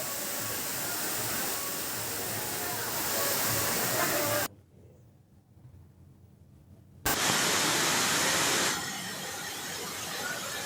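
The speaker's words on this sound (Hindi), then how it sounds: "देखिए तस्वीरें किस तरह से झरना बह रहा है" A natural waterfall in Madhya Pradesh, swollen by monsoon rain, produces a steady broadband roar that drops away to a quieter stretch midway before the rushing resumes at full strength.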